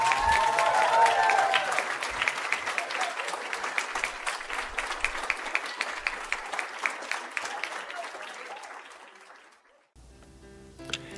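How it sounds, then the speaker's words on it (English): A church congregation gives a warm round of applause at a Sunday service, dense clapping with some crowd voices that gradually thins and fades out near the end, followed by a brief quieter tail. "Give Deb a nice round of applause one more time."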